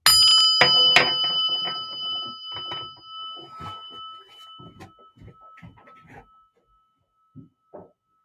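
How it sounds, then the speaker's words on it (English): A single bright bell struck once, ringing out clearly and decaying slowly over several seconds, followed by a few soft knocks and near silence. "listen to the bell as it rings through"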